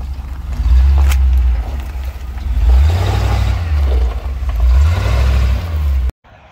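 A heavily modified Ford Bronco drives past with a deep, loud engine rumble that swells and eases twice before cutting off abruptly near the end.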